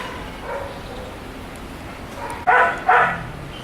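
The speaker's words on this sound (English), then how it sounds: "So many dogs, Armaan." Dogs at an outdoor animal resort bark twice in quick succession, a pair of moderately loud barks rising above steady background noise.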